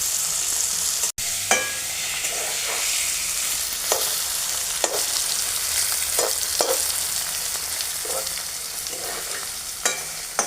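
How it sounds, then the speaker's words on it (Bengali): Paneer sizzles steadily in a hot kadai on a clay stove while a spatula stirs and scrapes, tapping against the pan every second or so. "পনিরটাকে একটু কড়া করে ভেজে নিয়েছি।"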